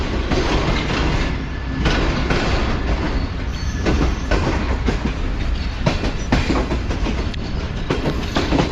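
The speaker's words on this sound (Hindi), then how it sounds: "हमारी ट्रेन अप्रोच बना रही है हैदराबाद जंक्शन रेलवे स्टेशन पर।" Shalimar Express heard from on board as it nears Hyderabad Junction station, with a loud continuous rumble and rhythmic clickety-clack of the wheels over rail joints and faint squealing, steady and close throughout.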